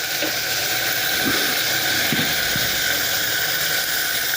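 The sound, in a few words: bitter gourd frying in hot oil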